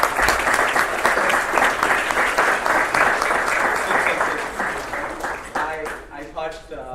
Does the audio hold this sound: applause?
yes